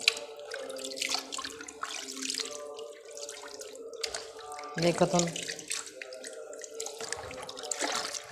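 Water splashes and sloshes as tie-dyed cloth is dipped and moved around in a basin, with a brief voice speaking in between.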